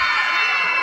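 A crowd of girls shrieking together at an outdoor patronal fiesta stage show, a dense, loud, high-pitched sustained scream that fills the whole moment.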